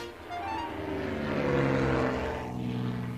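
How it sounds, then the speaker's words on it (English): A propeller aeroplane near an airfield drones overhead, a loud, continuous engine hum that swells and shifts pitch as it passes. "Percy heard the aeroplane zooming overhead all day."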